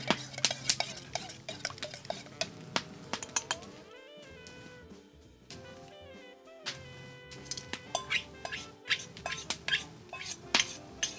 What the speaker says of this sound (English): So, gonna give this sauce a stir.